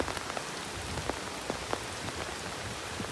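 Heavy monsoon rain pours over a village near a swollen river, a constant wash of drops striking surfaces with occasional crisp close splats, steady throughout and free of talk.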